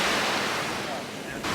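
Ocean surf washing onto a beach, a steady broad rush of waves with wind noise across the microphone, fairly loud and continuous with no talking.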